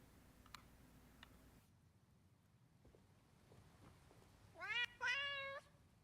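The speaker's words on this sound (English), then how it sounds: "There are two black cats here." Black cats in Skyrim give two drawn-out meows close by near the end, after a quiet stretch of faint ticking and low background ambience.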